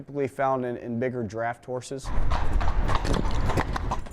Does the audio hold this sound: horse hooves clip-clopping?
yes